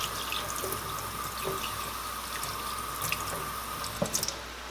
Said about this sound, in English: You want just a slow, steady stream of water when you do this